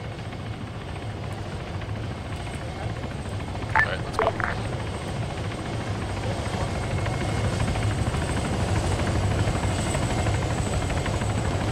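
Steady helicopter rotor and engine drone in the Arma 3 military game, a constant, loud, whirring hum throughout, with a few brief radio-like chirps early on.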